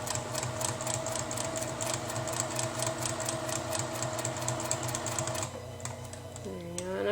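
Juki TL2010Q sewing machine stitching steadily up close, a rapid even mechanical chatter holding for several seconds before pausing, with a brief squeak and shuffle as fabric is adjusted near the end.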